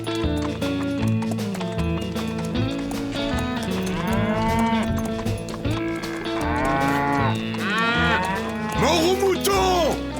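Cattle moo repeatedly in a loud, drawn-out chorus at a Wild West ranch, with overlapping long lowing calls amid a busy herd and hoof clatter in the background.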